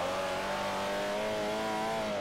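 A Volkswagen engine revving hard toward high RPM, loud and close, a sustained rising whine with a strong tonal drone that holds throughout.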